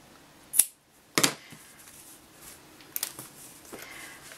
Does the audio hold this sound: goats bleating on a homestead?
no